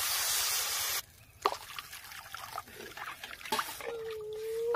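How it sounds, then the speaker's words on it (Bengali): Water is poured into a pot of spiced rohu fish kalia, a dense rushing splash that lasts about a second and then stops, leaving faint drips and quiet kitchen sounds. "এবার পরিমাণ মতো জল দিয়ে দেবো।"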